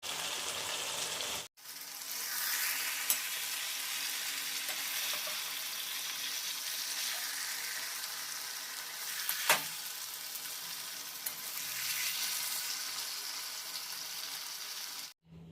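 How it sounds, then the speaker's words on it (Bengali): Fish curry simmering in a pan after water is added to the fried fish, a steady close bubbling and sizzling hiss with a brief gap near the start and a few soft clinks. "মাছটাকে কষিয়ে এবার আমি মাছের মধ্যে জল দিয়েছি, একটু ফুটে যাক"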